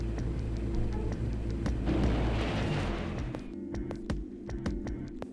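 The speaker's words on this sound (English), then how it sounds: "quiet hiss of air escaped slowly" Air hissing out during a decompression in the video game Virtue's Last Reward: a broad rushing burst swells over a low rumble, then cuts off, leaving scattered ticking.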